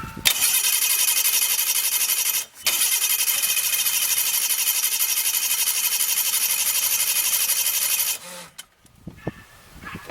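A 1990 Ski-Doo Safari snowmobile, sitting for eight years, cranks steadily with a rhythmic mechanical chug for about eight seconds with one brief break, loud and close, then stops into quieter clicks and handling noise.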